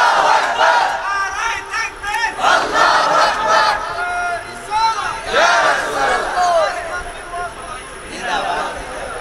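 A large crowd at an Islamic religious gathering chants slogans in loud, rhythmic unison, the massed voices rising and falling in repeated waves of call and response.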